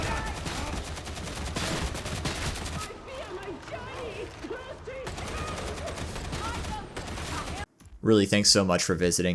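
Small arms gunfire in the video game Warhammer 40,000: Darktide, dense rapid shots crackling over busy combat noise, dropping away midway before a sharp burst returns, while someone talks over it.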